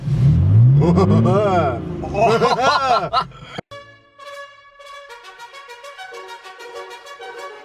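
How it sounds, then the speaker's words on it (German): A car engine revs loudly and close by, rising and falling through several throttle blips before cutting off, followed by a steady higher-pitched idle or hum. "gib einmal Gas"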